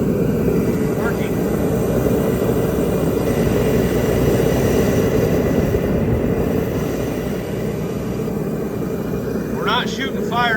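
A diesel torpedo forced-air heater runs with a loud, steady roaring rumble that continues unbroken, while someone speaks briefly over it and a short chirp appears near the end.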